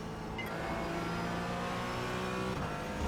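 Race car engine in the iRacing simulator, a loud, steady, buzzing drone with shifting harmonic tones as the car downshifts to third gear, continuous and close with no speech.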